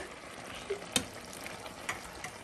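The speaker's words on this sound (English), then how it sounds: "now that we're done stirring" Tomato paste mixture for chicken tacos sizzles softly in a pan. A faint steady fry runs throughout, with a few light clicks of a utensil against the pan and no voices.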